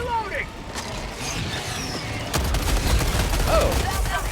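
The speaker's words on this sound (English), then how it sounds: "Reloading." Weapon handling in Helldivers 2, with mechanical clicks and rattles of a reload amid distant gunfire and explosions, growing denser partway through.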